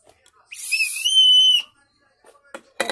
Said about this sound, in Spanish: Aquí tengo un silbato.